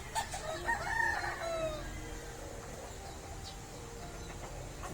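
Freshly bathed chickens, with a rooster crowing loudly in the first two seconds over a steady outdoor background hum that continues after the crow fades.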